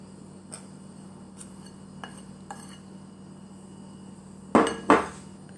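Flour is mixed into banana muffin batter with a wooden spoon in a bowl, with a few light taps and clinks, then two louder knocks near the end against a quiet background hum.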